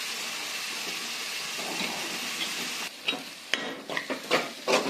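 Chicken curry fries with tomatoes in hot oil, with a steady sizzle at first and then a series of close, uneven scraping strokes as it is stirred.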